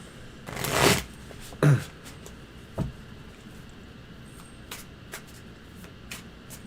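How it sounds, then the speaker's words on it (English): Cards riffle and snap together in a few quick bursts, the first loudest, then softer taps and handling in a quiet room. "Shuffle those cards and think."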